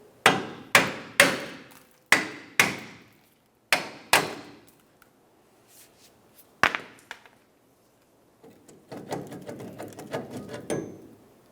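Sharp metallic hammer blows strike the rear brake backing plate of a 1994-2002 Ram 2500, ringing out in quick clusters, then a pause and a scattering of lighter knocks and scraping.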